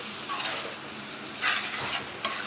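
Eggplant pieces sizzle and fry in a pan with turmeric, a steady close crackle broken by a few louder scraping stirs of the spoon.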